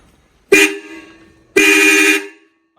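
A Ford tractor horn honks twice nearby, a short loud beep followed by a longer sustained blast, with quiet in between.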